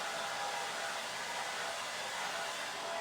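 A blow dryer runs steadily and close, drying fresh paint on a handmade Christmas frog box; an even, unbroken rushing whir with no talking.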